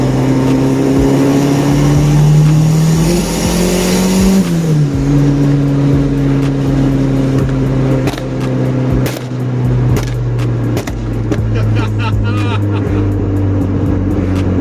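A loud car engine, with an airflow modification, roars up in pitch, drops back as it shifts, then holds a strong steady drone with wind rushing over the microphone.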